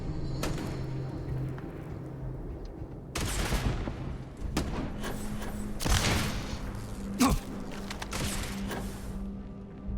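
Rapid bursts of gunfire crackle through a Starfield firefight, with sharp single shots, thuds and explosive booms scattered across the stretch at moderate loudness.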